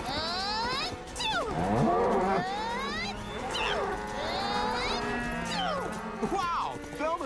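Cartoon cattle moo loudly in long, overlapping calls with sliding pitch, close and layered over one another, mixed with animated voices talking.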